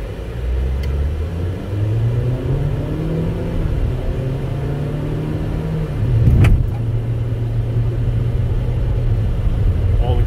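A $1400 used car on a test drive down a road, with a steady close engine drone and road rumble, rising through gear changes and a brief thump near the middle.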